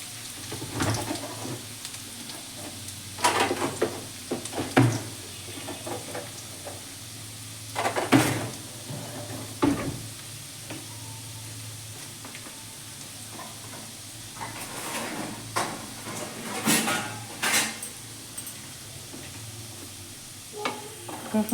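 Chopped garlic frying in a pan, a steady soft sizzle under repeated scrapes and knocks of a stirring utensil, close and fairly quiet with no talk.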